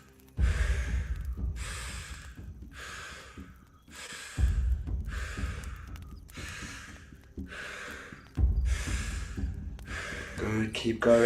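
Deep rhythmic breathwork inhalations and exhalations, about eight long breaths in a steady paced cycle, close and fairly loud, with a low rumbling hum underneath.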